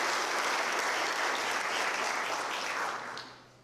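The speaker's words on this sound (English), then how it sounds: "let's give the dignitaries another round of applause" Loud, dense applause from the audience at a city police department promotional ceremony, honouring the dignitaries, sustained for about three seconds and then tapering off.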